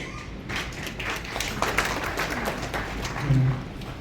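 Audience applause at an address by a High Court justice, a steady wash of many hands clapping at moderate distance, holding evenly across the moment.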